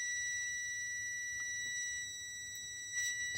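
A multimeter gives a steady, unbroken continuity beep while probing a relay circuit on a Chevy Metro with a crank-no-start fault. The clear, moderately loud electronic tone holds for several seconds with no talking.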